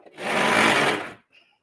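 Sewing machine stitching fabric for Christmas tree napkins, one steady whirring burst lasting about a second, close and fairly loud, then stopping abruptly.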